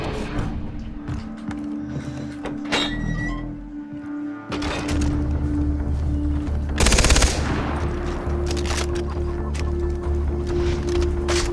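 Gunfire in the video game Far Cry 3, with bursts of shots over steady engine and ambient game noise, a dense rapid volley in the middle and scattered shots around it.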